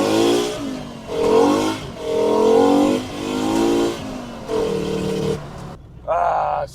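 Volkswagen Mk2 GTI fitted with a five-cylinder engine, revving up and down in several loud, close bursts with short dips between them, ending in a final sharp blip after a brief lull.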